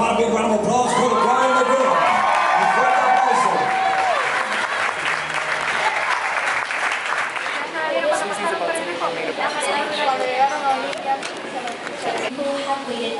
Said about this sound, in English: Applause for the bride and the groom.